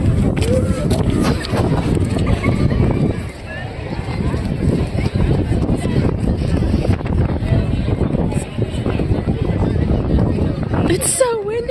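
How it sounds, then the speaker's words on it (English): Steady wind roaring and buffeting the microphone outdoors, a dense rushing noise throughout, with voices talking underneath. "It's so windy and cold."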